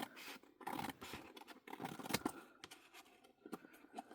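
Scissors snip and slide through scrapbook paper in a quick series of close, crisp cuts with light scraping in between.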